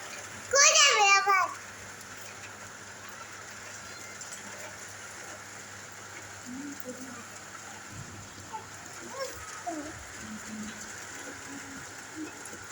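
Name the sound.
rain falling on a rooftop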